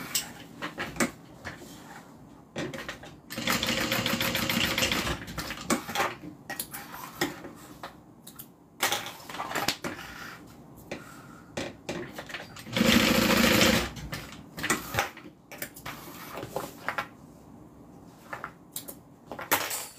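A sewing machine makes a stay stitch across the top of a bag after a connector is slid on, running in several short whirring bursts between pauses and clicks.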